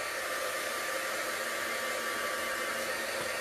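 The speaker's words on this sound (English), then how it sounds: "I'm just heating up my heat tool" An embossing heat tool blows hot air with a continuous, loud, hissing whoosh much like a hair dryer, steady and unbroken from start to finish.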